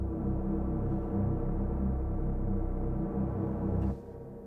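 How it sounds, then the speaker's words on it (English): A Reese bass synth with a thick, detuned hoover tone for techno plays as a loud, sustained low drone with slight wobble, holding steady before dropping abruptly near the end; no voices. "the second sound that we're going to talk about today is called the Reese."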